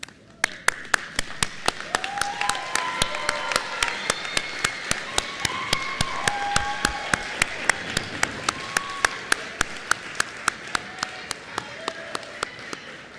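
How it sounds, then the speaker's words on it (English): A graduation commencement crowd gives a standing ovation, with dense sustained clapping plus sharp, regular claps or thumps ringing out over it for the whole stretch. "join me in a standing round of applause"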